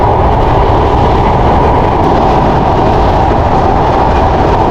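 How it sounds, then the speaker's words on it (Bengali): Loud, constant roar of the fast Jahanabad Express train from Khulna to Dhaka near the Padma Bridge, heavy rumbling from the tracks filling the whole stretch without a break. "মাথা নষ্ট পাগলা গতির ট্রেন ওই যে সামনে পদ্মা সেতু"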